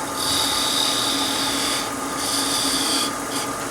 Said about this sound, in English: I'm using my little skew. I'm going to make a